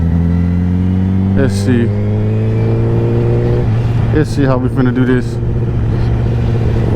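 Honda CBR1000RR sport motorcycle with steady engine drone and harmonics climbing in pitch as it revs, sharp throttle blips around mid-clip, close and loud, with someone talking over it.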